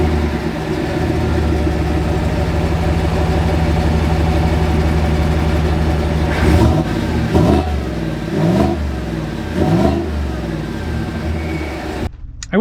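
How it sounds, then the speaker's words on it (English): Loud, steady exhaust drone from a 2025 Chevy Tahoe RST Performance while driving, a deep continuous rumble heard from inside the cabin with several brief surges as the throttle changes. "Interesting to hear what the exhaust sounds like a little bit."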